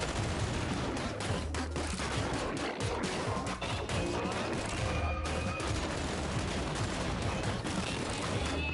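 A gun fires in a shooter video game, sustained rapid bursts of gunfire with crashing impacts, loud and nearly continuous.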